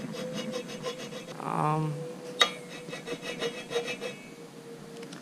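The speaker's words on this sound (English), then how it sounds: "So you gotta hit it with the file." A hand file rasps against scrap metal at a scrap yard in a quick series of rhythmic rough strokes, fairly close, with a brief word spoken at the start.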